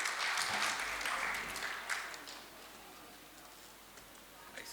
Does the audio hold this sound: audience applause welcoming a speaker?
yes